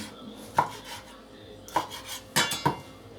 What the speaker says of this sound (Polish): kroimy, kroimy